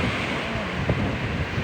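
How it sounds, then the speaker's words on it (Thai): Strong ocean waves surging at a Thai beach on a cold, very windy day, a dense continuous roar of surf and wind buffeting the microphone, close and loud. "คลื่นโต"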